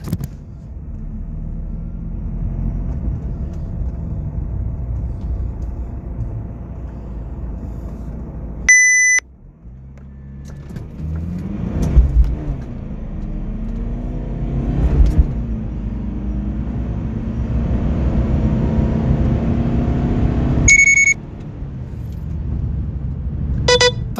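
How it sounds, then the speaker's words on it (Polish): BMW E46 150 hp two-litre diesel, unchipped, accelerating hard from standstill to 100 km/h: a steady, loud engine drone heard from inside the cabin, with a sharp dip near nine seconds as it pulls away and short electronic beeps along the way. "BMW E46, 150 koni, dwulitrowy diesel bez chipa."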